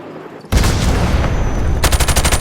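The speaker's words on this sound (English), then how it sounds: "find the Stinger missiles and shoot that hacking twat out of the sky" Gunfire in Call of Duty 4 Remastered bursts in loudly after a short lull, a dense sustained volley that gives way to a rapid rhythmic string of close shots.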